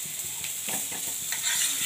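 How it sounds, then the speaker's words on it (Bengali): Leftover prawn and bottle gourd curry reheats in a pan, with a steady sizzle and repeated scraping stirs of a spoon across the pan at a close, even level, and no talk. "অনেকগুলো চিংড়ি মাছের লাউ তরকারি বেঁচে গেছে, তাই গরম করছি।"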